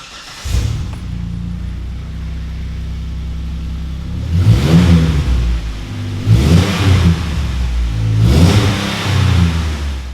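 A four-door Jeep Wrangler engine idles with a deep rumble through a MagnaFlow Off-Road Pro stainless cat-back exhaust with 3-inch turndown, then revs loudly three times in spaced bursts, each swelling and falling back to idle.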